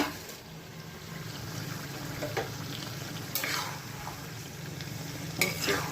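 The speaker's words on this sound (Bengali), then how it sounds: "নেড়ে চেড়ে মিশাই নেই" Steady sizzling of chicken curry in a hot pan, with occasional scraping strokes of a spoon stirring the food.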